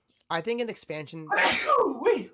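A single sharp sneeze bursts out loud and close, with broadband noise, right after a person has been speaking; another voice talks just before it.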